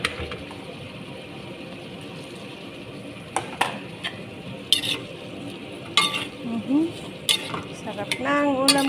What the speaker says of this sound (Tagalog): Ihahalo natin yung hipon.